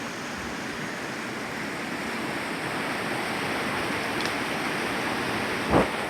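A steady rush of stream water tumbles over cascades on a wooded, unlogged New Hampshire property, close and unbroken, with one brief thump near the end.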